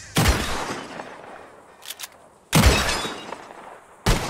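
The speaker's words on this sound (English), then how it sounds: "Whoever shoots more of these bottles wins." Gunfire from a Red Dead Redemption 2 shooting contest at bottles: three loud, sharp shots with shattering bursts, the first followed by a long ringing decay, a faint clink in between, and the last cut short.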